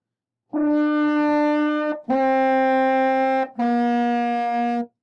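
A French horn plays three sustained notes of Hot Cross Buns, each held about a second and a half with short breaks between, rich and steady in tone.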